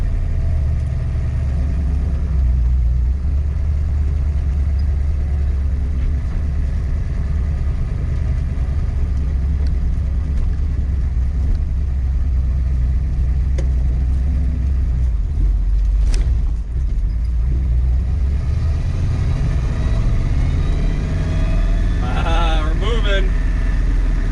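A 1966 Mustang with a Blueprint 347 stroker V8 rumbles steadily while driving, a constant low engine drone running throughout, with a brief sharp noise near the end.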